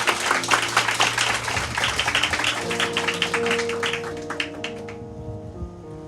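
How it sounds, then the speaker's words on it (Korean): A church youth prayer meeting audience gives dense, lively applause for the next speaker, with music playing underneath; the clapping fades after about five seconds, leaving the music. "병준이 나올 때 또 큰 박수 부탁드립니다."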